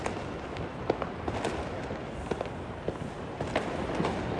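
Firecrackers burst during Diwali near a tech park in Bangalore, several sharp pops and cracks at irregular intervals over a constant crackling, noisy background.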